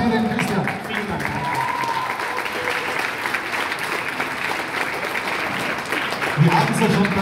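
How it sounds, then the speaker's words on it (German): Audience applause at a German The Voice talent show, continuous clapping from a large crowd with talk and background noise mixed in throughout. "Applaus für den Christian"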